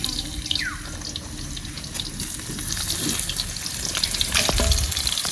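Potato pieces slid gradually into hot oil for frying at an outdoor picnic, giving a close, rising crackle and sizzle with watery splashes and clinks, growing louder toward the end.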